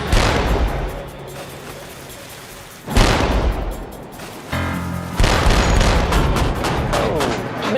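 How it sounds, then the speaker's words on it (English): Heavy naval warship deck-gun rounds boom out at a floating target, several loud blasts with long rolling echoes and rumbling decay between them, with wind noise and faint voices underneath. "The gun is hitting its mark, but the killer tomato is a resilient target."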